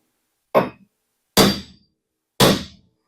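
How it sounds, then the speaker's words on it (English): A very large hammer strikes a giant chisel set against a car fender three times, each a sharp metallic bang about a second apart with a short ringing decay, loud and close. "I just have a giant chisel and a very large hammer"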